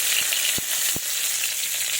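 Bay leaves fry in hot mustard oil in a kadai for a spicy soybean dish, giving a steady close sizzling hiss with a few soft pops and no talking.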